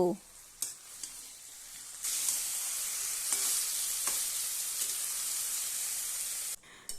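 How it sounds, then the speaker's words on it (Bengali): Cabbage curry, just seasoned with salt and sugar, hisses loudly in a pan as a spoon stirs it, with a few scraping knocks against the metal and a brief pause in the sizzle near the end. "ভালোভাবে একবার মিশিয়ে নেব।"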